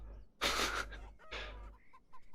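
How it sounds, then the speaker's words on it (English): Chickens cluck loudly in the video game Beyond Eyes, two close, harsh bursts followed by fainter short clucks. "We'll let the chickens out."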